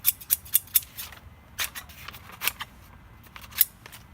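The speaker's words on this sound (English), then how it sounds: "Scissors." Scissors snipping paper in a quiet room, a run of four quick crisp cuts followed by a few scattered, softer snips and rustles.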